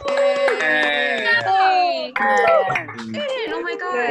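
Several participants on a video call cheer and whoop together at once, their overlapping voices rising and falling in loud, continuous excitement with no break.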